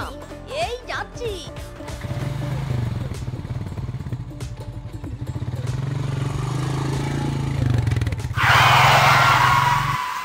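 A cartoon motorcycle engine revs with a throbbing, rising drone, then roars off with a loud rushing burst near the end.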